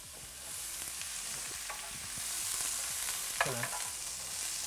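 Carrots and celery fry in a pan with a steady, close sizzle, while scattered stirring scrapes and clicks sound over it and one sharper knock comes near the end.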